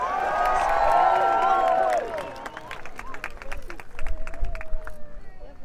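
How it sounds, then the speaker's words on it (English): Spectators at a jousting tournament at Leeds Castle in Kent cheer loudly for about two seconds. The roar then gives way to scattered clapping and murmuring crowd noise. "And a cheer for Mark Capel on this last run."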